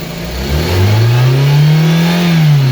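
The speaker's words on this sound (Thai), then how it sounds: "ผมจะเร่งเครื่องนะครับ" An automatic-transmission Toyota car engine revs up from idle, its pitch climbing and then holding high, loud and close, with no voices.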